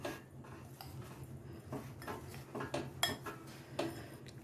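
A spoon scraping and clinking in a pot while lemon pickle is mixed with masala, soft irregular metallic taps and stirring at low volume.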